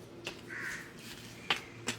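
A crow caws several times, with short sharp calls spaced irregularly against a quiet outdoor background, fairly close by.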